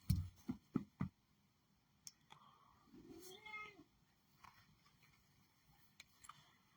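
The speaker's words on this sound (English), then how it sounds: "Meow. Meow. Meow." A cat meows several times, short sharp calls early on, then a longer drawn-out meow, with faint clicks in a quiet room.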